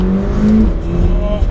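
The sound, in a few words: McLaren 720S 4 litre twin turbo engine accelerating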